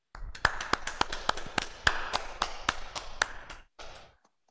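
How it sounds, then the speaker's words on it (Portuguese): Applause for an honoree at a medical awards ceremony, a small group giving sharp, fairly sparse claps in an uneven rhythm that thins out and stops near the end. "Salve de palmas"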